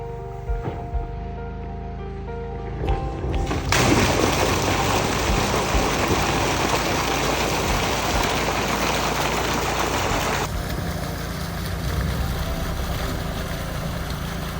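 An outdoor water boiler on an off-grid homestead in Spain firing up during a heatwave, a loud roaring burst that rises abruptly and rumbles steadily, then drops to a lower continuous drone.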